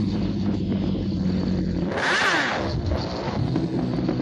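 A motorcycle engine idles and rumbles, then revs sharply in one brief burst as the clutch is worked for a wheelie before settling back to a steady idle.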